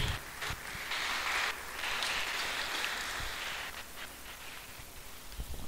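An audience claps continuously at a gathering, a dense, even patter of many hands that sounds somewhat distant and soft and holds steady throughout.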